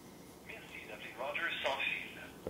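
A call to the Rogers customer service line from a Telus BlackBerry Storm 9530 fitted with a Fido SIM, with a faint phone-speaker voice and line tones playing quietly and growing slightly louder near the end.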